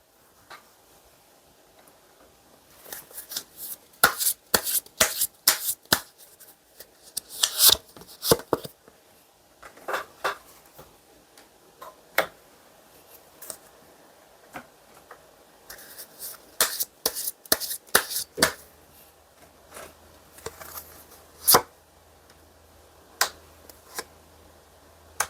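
Tarot and Lenormand cards are shuffled and drawn close up, giving bursts of crisp riffling and flicking followed by sharp single snaps and taps of cards laid down, irregular and sparse, with no voice.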